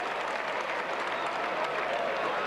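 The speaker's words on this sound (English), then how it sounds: "This crowd really excited as this intriguing struggle goes on" Rugby league crowd at a tense Wigan versus Castleford match, a steady broad roar of cheering and applause from the stands, continuous and fairly loud throughout with no clear breaks.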